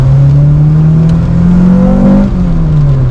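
A high-revving naturally aspirated Honda K20 engine in a Honda Jazz (Fit) screams loud and close, pitch climbing and dipping as the throttle is worked, with a whiny mechanical edge.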